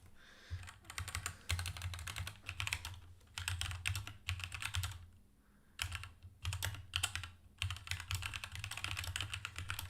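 Rapid, steady typing on a computer keyboard during a day trading session, clicky keystrokes in dense bursts with brief pauses, close and clear with no talking.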